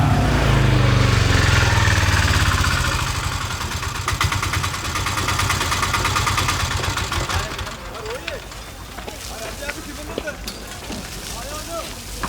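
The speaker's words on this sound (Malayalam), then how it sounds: "ഓട്ടോറിക്ഷയുടെ ശബ്ദം കേട്ടപ്പോൾ തന്നെ കയറി വിളിച്ചതാ." An autorickshaw engine idles close by, a loud steady low chug that fills the first half and then eases back under people talking in a Malayalam film scene.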